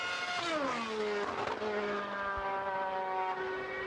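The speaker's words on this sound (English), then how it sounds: "you won't have heard these V8 engines anyway" A V8 Mercedes Formula One car howls past at Silverstone, its high engine note rising and then sweeping down in pitch as it passes close by, with sustained harmonic whine fading into the distance.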